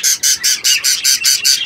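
A parrot inside its nest box with three chicks gives a rapid series of about eight harsh, loud squawks in a steady rhythm, close and alone.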